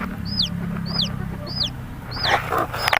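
A brooding hen sitting on eggs with her few newly hatched chicks on a village poultry farm; high, sharp peeps repeat about every half second over a low, steady clucking murmur, close by.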